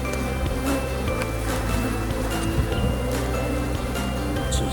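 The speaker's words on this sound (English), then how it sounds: "Jeez, they're unhappy bees." Agitated honey bees from a feral hive being split buzz continuously and densely at close range, a steady swarm drone with scattered louder passes near the microphone.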